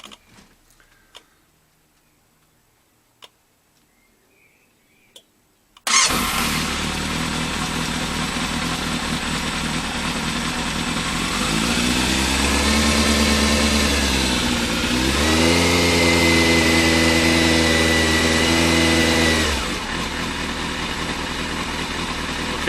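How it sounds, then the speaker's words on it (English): A motorcycle with a fuel pump problem starts after a few seconds of near silence, then idles and revs, its pitch climbing and falling, loud and close. "I don't know if you can hear me over the sound of the engine"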